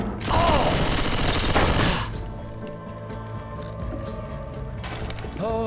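In Left 4 Dead 2, a dense burst of gunfire rattles loud and close for about two seconds, then fades into a quieter background of game ambience.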